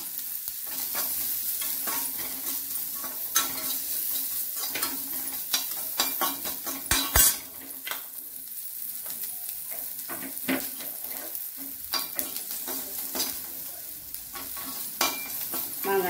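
Onions and green chillies sizzling in a pan for a sweet and sour mango jaggery dish, stirred with frequent scraping and clinking strokes over steady frying, loud and close.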